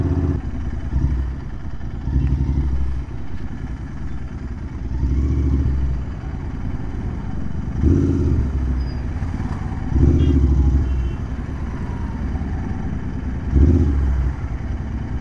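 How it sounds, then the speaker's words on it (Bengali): A motorcycle rides along the Barakar–Purulia road near an unopened toll plaza, its mid-pitched engine droning steadily with several louder revving surges and some clatter, close to the microphone. "এটাই হচ্ছে বাইক।"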